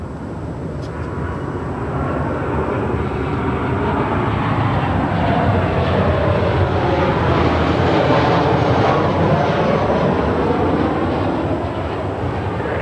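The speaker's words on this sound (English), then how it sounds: "this is Southwest Airlines 434 coming in from Nashville. 737-800 that's been repainted" Repainted Southwest Airlines Boeing 737-800 arriving at LAX, a broad steady roar of jet engines that swells and holds for several seconds, loud and unbroken with no talking.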